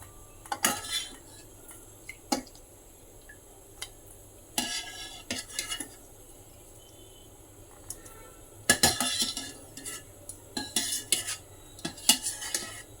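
Paneer pieces are lifted out of hot water into a bowl in a home kitchen, with scattered close metallic clinks and scrapes of a utensil against the vessels, coming in short irregular bursts separated by quiet pauses.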